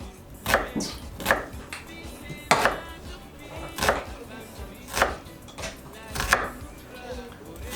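Onion being chopped with a knife on a board, a steady run of about ten crisp, close knocks in an even rhythm over faint background hiss.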